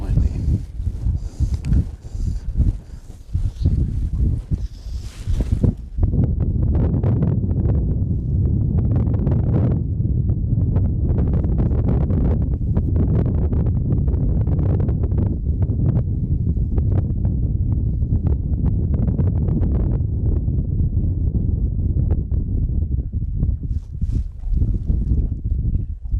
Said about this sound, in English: just windy.